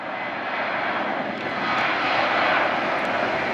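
A jet engine roars steadily at a distance at Tampa airport, a broad rushing noise that swells slightly as the aircraft powers up for takeoff.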